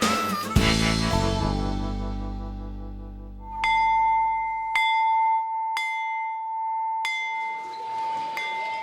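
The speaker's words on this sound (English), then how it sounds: "The sound of the bell worldwide means playtime." A school bell rings out in four evenly spaced, clear strikes after a brief crash of noise, each tone ringing on and fading slowly.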